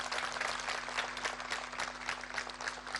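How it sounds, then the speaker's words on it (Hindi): Loud, sustained applause from a large audience at a Swami Ramdev address at the Ruchi Soya site in Patal Ganga, Maharashtra, dense clapping filling the whole stretch without a break. "तो जोरदार ताली बजाओ फिर"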